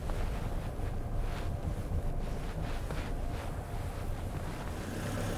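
Steady wind buffets the microphone with a continuous rushing roar of waves on a Scandinavian beach, no distinct breaks, no voices.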